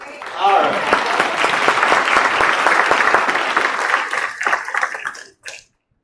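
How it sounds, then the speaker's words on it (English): A crowd applauds steadily with dense clapping for about five seconds before it thins out and stops. "we can give her a round of applause"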